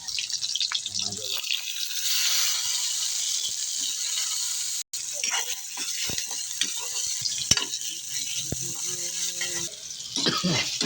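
Garlic and onion sauté in hot oil in a pan, giving a steady bright sizzle broken by scraping stirs and rattles, while someone talks over the cooking.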